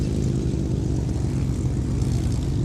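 Propeller aircraft engine droning steadily at the Victory Show, a dense, continuous low roar that stays loud and close throughout with no pauses.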